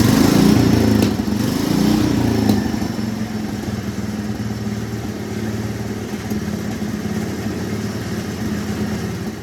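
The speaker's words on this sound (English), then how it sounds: "see if we can get it to idle nicely and throttle up and down like it should" A vintage 1960s Coot off-road ATV engine runs close up, loud and steady at first with a brief rev, then settling into an even idle.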